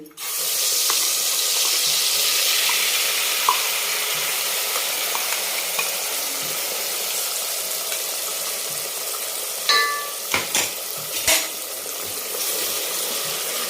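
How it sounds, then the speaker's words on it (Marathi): Ground green-chili spice paste sizzles and fries steadily in hot oil for a Maharashtrian mutton curry, a loud continuous hiss with a few sharp clinks of the stirring spoon near the end; no talking. "छान तेल सुटीपर्यंत आपल्याला याला परतून घ्यायचं"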